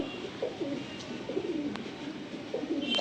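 Madrasi or Giribaj pigeons at a pigeon sale in Garia, Kolkata, with soft, low cooing repeating in short phrases close by in a quiet room, plus a few faint clicks.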